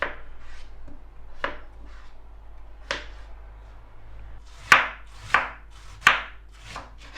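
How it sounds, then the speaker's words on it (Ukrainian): A knife chops potatoes on a board for Ukrainian borscht. About a dozen distinct, close chops come at an uneven pace, with the last few noticeably sharper and louder. "Тепер нам потрібно підготувати картоплю, нарізати її."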